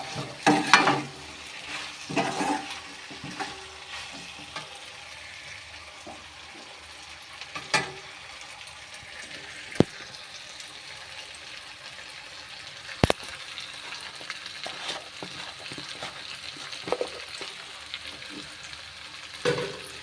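Potato stir-fry (poriyal) with ground ginger-garlic paste being stirred in a pan: a steady soft sizzle with scattered scraping and clinking of the spoon against the pan, quiet and close, with no voices.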